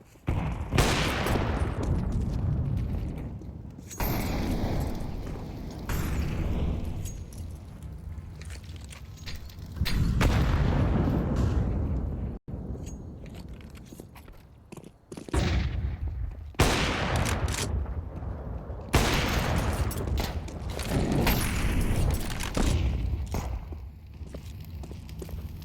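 Pistol gunfire in an esports first-person shooter match, with repeated bursts of sharp shots and rapid exchanges at close and middle distance, broken by short quiet gaps, loud throughout.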